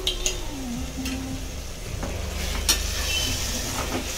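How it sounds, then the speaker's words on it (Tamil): Ginger garlic paste hitting hot oil in a pan while cooking mutton biryani, a steady close sizzle with scattered sharp crackles and the scrape of stirring. "இப்போ நம்ம இஞ்சி பூண்டு பேஸ்ட் ஆட் பண்ணிக்கலாம்."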